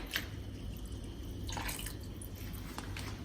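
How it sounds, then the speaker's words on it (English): Water poured into a pot of lentils while cooking, a continuous liquid splashing and trickling with a few brighter gushes, close and steady without talk. "I'm going to add the water now."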